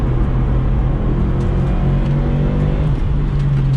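A Subaru WRX STI on a race track, its engine droning steadily at high revs in a continuous loud interior rumble with a faint rising whine, no voices.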